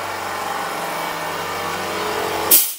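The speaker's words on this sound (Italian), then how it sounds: "questo è il rumore del compressore" A steady mechanical drone of a silenced air compressor runs continuously, with a low hum and broadband hiss, ending in a brief loud burst before cutting off.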